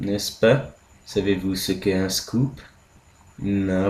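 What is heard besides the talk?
None of the usual background noises is heard.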